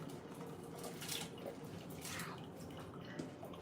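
Rice going into a pot of hot water while cooking a street-style chicken curry, heard as a steady watery rush and splashing, moderately close and continuous for a few seconds with no talking.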